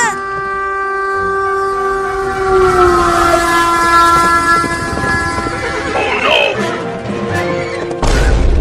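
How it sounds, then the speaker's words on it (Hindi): A train approaches along a railway line, with a long sustained horn blast holding steady for several seconds, then a horse whinnies close by over it near the end. "ये नहीं दिख रहा कि आगे से ट्रेन भी आ रही है।"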